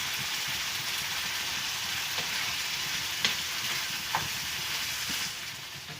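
Corned beef fries in a pan with a steady, soft sizzle and crackle throughout, broken by a few brief clicks and scrapes.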